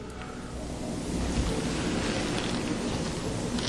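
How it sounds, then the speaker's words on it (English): A river stream flowing steadily, a dense, continuous rush of water that swells slightly after the first second and holds at a fairly loud, even level with no voices. "Here's the river, my friends."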